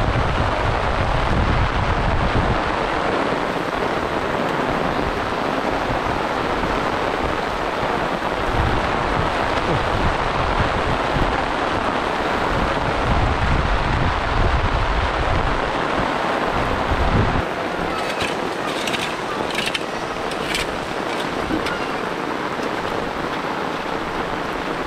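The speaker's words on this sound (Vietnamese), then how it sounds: "Mưa gió này." Heavy rain and gusting wind roar steadily and loudly outdoors at a construction site, with wind buffeting the microphone throughout and no speech.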